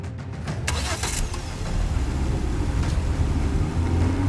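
A car engine starts and the car pulls away as a sound effect in an audio drama, with a steady mid-pitched engine rumble that builds slightly, close and alone without speech.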